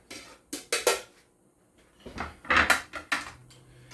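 Braised goat ragù being stirred together with its juices in a pot, heard as several close, sharp clinks and scrapes of a utensil against metal in short bursts, with quiet gaps between.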